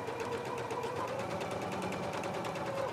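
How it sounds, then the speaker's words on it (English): Sewing machine stitching a basting seam on a shirt yoke, a steady fast mechanical whir with an even, rapid needle rhythm running continuously at close range. "take it to your machine and go ahead and baste this in place"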